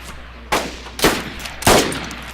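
Three loud, close bursts of gunfire at a gas station pump in a video game, each a sharp crack with a short decay, spaced about half a second apart.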